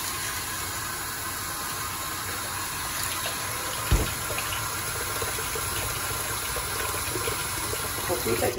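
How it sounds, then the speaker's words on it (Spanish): Hot water pours steadily into a pot of white beans, a continuous rushing gush with one brief knock partway through, close and alone. "Lo voy a poner agua caliente."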